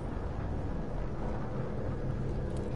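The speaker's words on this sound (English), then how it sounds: "And there's that VTOL again." A VTOL aircraft in Call of Duty Black Ops III drones overhead in a steady, loud, low rumble that holds without break and has no talk over it.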